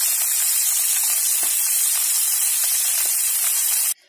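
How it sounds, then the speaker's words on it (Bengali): Pieces of fish shallow-frying in hot oil for a Bengali bata bori curry give a steady, close hiss of sizzling that runs unbroken for about four seconds, then cuts off abruptly. "মাছগুলো কিন্তু দিয়ে দিয়েছি, এগুলোকেও কিন্তু হালকা হালকা করে ভেজে তুলে নেবো"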